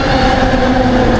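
Train pulling into KL Sentral station in Kuala Lumpur, a loud steady rumble of rail cars with a sustained hum and faint wheel clatter filling the whole moment, no voices.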